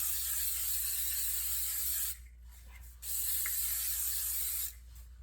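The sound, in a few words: cooking spray sprayed into baking dish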